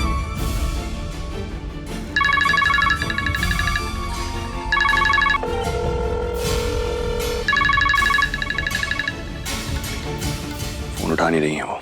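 A telephone rings unanswered indoors in repeated electronic ringtone bursts, each lasting about a second, separated by gaps, over background sound and other noise.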